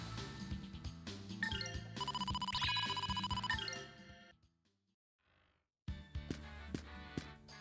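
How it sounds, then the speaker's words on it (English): A phone ringing an alarm in the Grandia II video game sounds as a loud, bright electronic ring tone over game music. It plays steadily for about two seconds, then drops into near silence before the music returns. "maybe the phone just has a function where it just rings the alarm no matter what"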